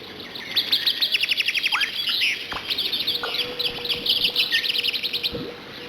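Birds chirp loudly and constantly in the Alone in the Dark video game: overlapping fast trills and sharp calls fill the scene, broken by occasional dull knocks, with no voices.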